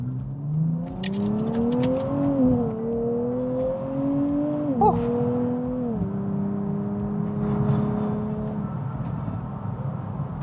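A 2025 Nissan Z NISMO accelerates hard, its engine note climbing through several gear changes with brief dips, loud and steady as heard from the cabin.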